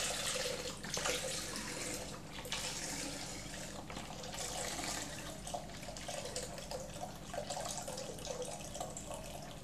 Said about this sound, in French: Bon, alors vous versez votre litre de lait.